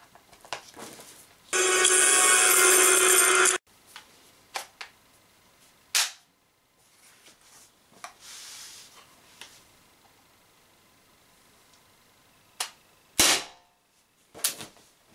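An Umarex HDR68 airgun fires slugs in a few sharp, close, loud cracks spread apart by pauses, with a long burst of noise earlier in the stretch and faint handling clicks between shots.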